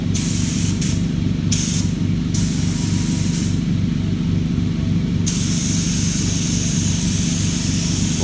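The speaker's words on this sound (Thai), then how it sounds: "พ่นแบบรวยๆนะครับ ไม่ต้องไปพ่นแรงหลนะครับ" A spray gun hisses steadily as it lays paint onto a car panel during a wrinkled-paint repair, the continuous close airy spray running unbroken with a low hum beneath it.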